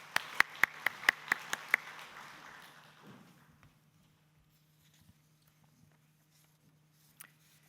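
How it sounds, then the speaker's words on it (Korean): A church congregation gives a short round of applause during a Sunday service, a handful of sharp, evenly spaced claps that fade out after about two seconds into near silence with a low hum. "하나님께 영광의 박수 올려드리겠습니다"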